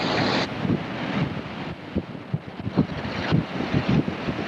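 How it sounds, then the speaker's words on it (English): Gusty wind buffets the microphone beside the Niagara Falls gorge, a loud rushing roar with irregular thumps and swells, with a faint wash of water underneath. "With the wind blowing this way."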